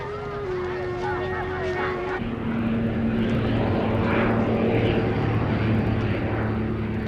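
Propeller airplane flying over Luang Prabang, Laos, in 1966, a steady droning engine hum with a shifting tone that grows slightly louder, heard under a narrator's voice.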